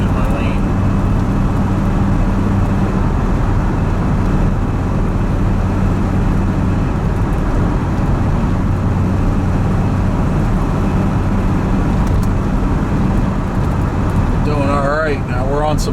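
A Corvette on old tires cruises along a road at about 55 mph in third gear near 2,800 RPM, with a steady loud engine and road drone and someone talking over it.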